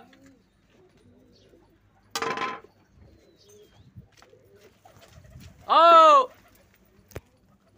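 A pigeon kept for kabootar bazi flying gives one clear, close, throaty coo in an otherwise quiet outdoor setting; a man briefly exclaims once beforehand, and faint ticks and rustles follow.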